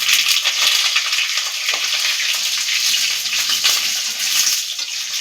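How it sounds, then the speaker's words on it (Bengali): Cut potatoes dropped into hot oil with fried spices for a potato and papaya curry, a loud, close, bright hiss of frying that holds steady and bubbles throughout, with no voices. "এবার আমি কেটে রাখা আলুগুলো দিয়ে দিচ্ছি।"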